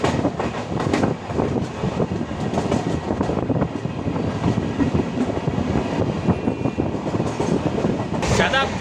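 The Bangalore Shatabdi Express runs on rails between Chennai and Bangalore, heard from inside as a steady rumble with rhythmic clickety-clack of wheels over rail joints, continuous and fairly loud, with a voice speaking over it.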